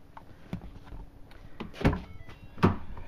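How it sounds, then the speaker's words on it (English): A 2010 Ford Fusion car door unlatches and swings open with a couple of dull thunks and clicks, close by, in a quiet setting. "let's open the door to the car"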